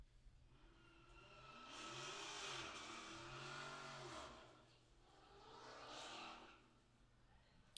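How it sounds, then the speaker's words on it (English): A small moped engine starts and revs away, rising and fading in two swells, heard from a distance outside a minor league ballpark. "As you heard our concession stand lady get on her moped and take off for the evening"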